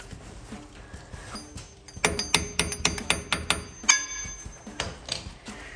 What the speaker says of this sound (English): we're gonna try to lightly tap it with a hammer